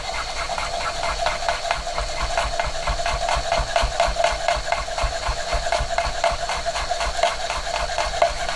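Rapid, steady knife chops through fresh garlic on a board, an even rhythm of close, fairly loud taps repeating throughout with no talking.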